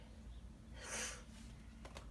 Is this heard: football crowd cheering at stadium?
no